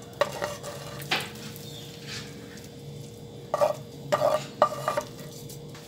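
A spoon stirs rice with ham and sautéed vegetables in a pan, giving soft scraping and a few clustered clinks against the pan over a low sizzle, with no talking.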